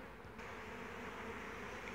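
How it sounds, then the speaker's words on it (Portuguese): Swarm of honey bees buzzing steadily inside a hive box, a dense, continuous drone close by, with no talk. "Olha, pessoal. Até que tem bastante abelha."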